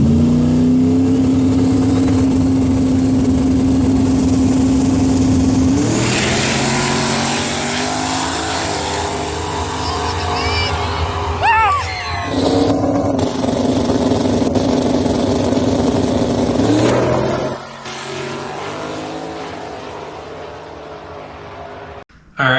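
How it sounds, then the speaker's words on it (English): Street drag race between cars including a Fox body Mustang, with loud engines revving and roaring continuously, rising in pitch as they accelerate, with gear shifts and a brief drop near the end. "for my first round draw, we had got the Barney Fox body, and there was a little bit of drama around this race"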